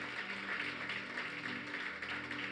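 A church congregation applauds loudly in sustained, dense clapping that holds steady throughout, with no speech over it.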